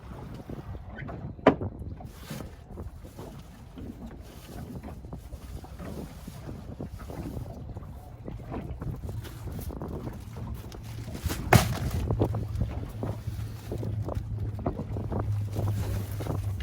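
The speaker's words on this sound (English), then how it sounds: "It's very windy. Very windy." Strong wind buffets the microphone out on the water during a fishing trip, a steady low rumble with gusts and occasional knocks from the boat, with no voices.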